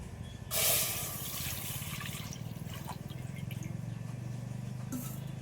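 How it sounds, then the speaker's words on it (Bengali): Milk is poured into a wok, starting with a brief splash and then settling into a soft, steady pouring trickle, heard close by and fairly quiet, with no talk. "এই দুধটা কড়ার মধ্যে এখন দিয়ে দিচ্ছি"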